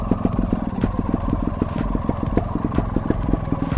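A trial motorcycle descends a slope in first gear while braking with front and rear brakes: a loud, close, low engine pulses steadily at low revs with light mechanical clatter and no talking.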